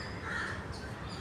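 A crow caws close by, a harsh nasal call standing out over a continuous background of outdoor noise.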